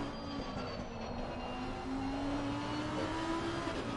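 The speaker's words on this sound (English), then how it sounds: "On the brakes, down to second" A race car in a PS5 endurance racing game on the Bathurst circuit whines along at speed and shifts pitch as it brakes and downshifts, steady and moderately loud with no voices.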